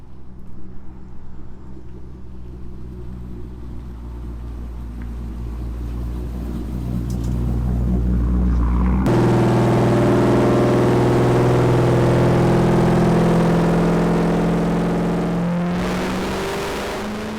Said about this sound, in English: we're just going to do a quick 3 dyno pulls today